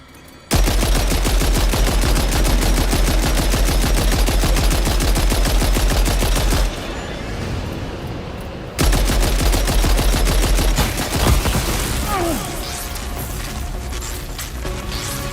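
Loud, rapid automatic gunshots fire in a steady, unbroken stream, stop for about two seconds, then resume in a rougher, more scattered volley.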